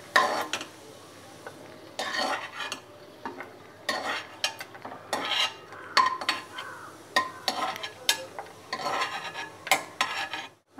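Cashews and raisins fry in a pan for atukula payasam, stirred with repeated scraping, clinking spoon strokes over a faint sizzle, close and fairly quiet.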